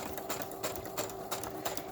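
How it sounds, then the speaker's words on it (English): Sewing machine stitching across a thick fabric tag at a slow pace, a steady close mechanical whir with a faint rhythmic needle patter and no talking. "mine are a little thick, so I have to kind of go slow with my sewing machine"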